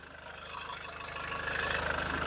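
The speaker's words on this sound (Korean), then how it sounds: "마지막으로 제일 중요한 엔진 사운드 체크하고 영상 마무리할게요" Diesel engine of an SsangYong Rexton Sports Khan pickup idling with the hood open, a steady, even rumble heard up close that grows slightly louder over a couple of seconds, with no talk.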